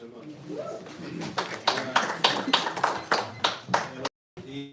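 Audience clapping in a town hall meeting on a data center moratorium, a burst of many hands that swells and then fades under a murmuring crowd, cutting off abruptly near the end.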